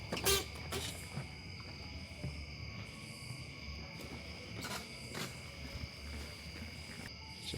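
Crickets chirp in a steady, high trill across a quiet nighttime background at Anakeesta in Gatlinburg, Tennessee, with a few faint knocks and thumps now and then.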